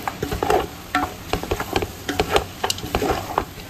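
Poha with tomatoes is stirred in a pan on the stove, with a steady run of close scraping and clattering spoon strokes and a faint sizzle underneath, with no talking.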